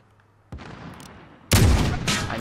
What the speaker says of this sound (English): Darren, don't peek because you're the one trying to shoot